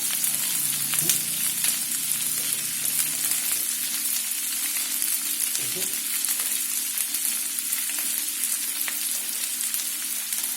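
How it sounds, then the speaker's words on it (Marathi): Capsicum, onion and cauliflower sauté in a pan for egg chilli, making a loud, dense sizzle that runs the whole time. Occasional faint clinks of the spoon sit under it. "तसंच शिमला मिरची आणि कांदा यांना छान परतून घेऊया"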